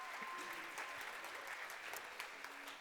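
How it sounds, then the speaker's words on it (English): An audience at a school assembly during the World Food Forum 2022 gives a round of applause. The clapping is faint and distant, a thin, even patter lasting a few seconds. "A round of applause, please."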